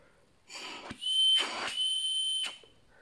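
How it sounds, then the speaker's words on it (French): Someone blows through a Wavin Tigris M5 multilayer pipe fitting like a whistle, producing a steady piercing tone in two bursts with breathy rushes of air around them, close and alone. "ça peut servir de sifflet en même temps, c'est rigolo"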